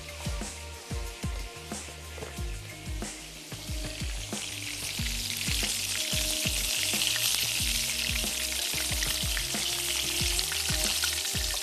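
Kababs frying in oil for handi kabab, a steady sizzle that swells louder midway, with repeated low knocks and clatter of utensils throughout; no talking.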